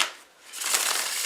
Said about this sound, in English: I'm shuffling this deck of cards